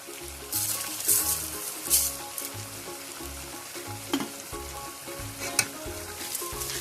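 Semolina halwa with sugar just added is stirred in a pan, giving a steady sizzle and soft scraping that runs continuously under background music.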